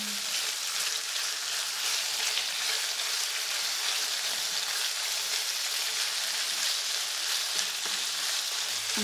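Beef stir-frying in a pan with ginger and herbs, a steady dense sizzle that holds evenly throughout, close and fairly loud, with occasional faint scrapes of stirring beneath it and no talking.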